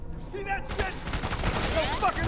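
Dense bursts of gunfire from the shooter video game F.E.A.R. 3 roar loud and continuous, with rapid overlapping shots filling the whole moment.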